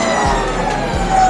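An electric motorcycle's motor whines loudly and steadily at close range on a busy motorcycle show floor in Chicago, with low swooping tones as the throttle is worked.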